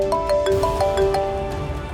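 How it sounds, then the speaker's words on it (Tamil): A phone rings with an incoming call, a repeating electronic melodic ringtone of short bright notes, fairly loud and close, with no one talking over it. "மாயா தான் ஃபோன் பண்றா."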